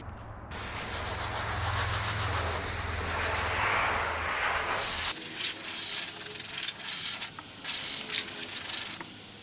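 A cloth rubs and wipes a sanded 2004 Honda CRV headlight dry, producing close scuffing strokes with a long continuous rub at first, then shorter broken swipes.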